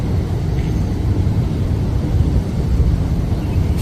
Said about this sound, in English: And listen to all the traffic over there.